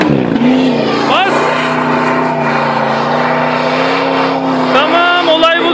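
An off-road car's engine revs loud and steady as the vehicle climbs a hard track, the strained drone holding throughout with brief pitch swells, while people talk over it.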